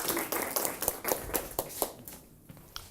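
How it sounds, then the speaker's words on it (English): A small audience at a social media lunch event clapping as a speaker comes on stage, sparse close hand claps in an irregular patter that thins out after a couple of seconds. "As everybody claps for you"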